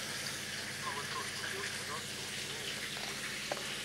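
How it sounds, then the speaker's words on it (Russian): Close, steady sizzling of cutlets frying in a pan, a constant crackling hiss with faint voices murmuring underneath. "потому что вот, котлеты жарятся"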